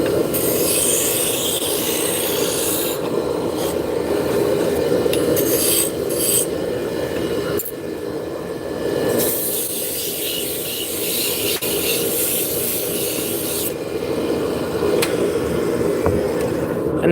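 A woodworking lathe spins a small piece of wood at its maximum speed, a steady raspy whir with scraping texture that holds throughout, with a few brief changes in tone along the way.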